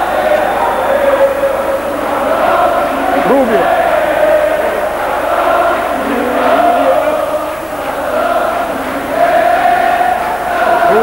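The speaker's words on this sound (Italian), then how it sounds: "come avrete sentito dai cori, sono arrivati da Monza i tifosi Brianzoli" Visiting Monza supporters chant in the arena at a 1990–91 Serie A1 roller hockey match against Amatori Lodi, a sustained crowd chant rising and falling behind a commentator's voice.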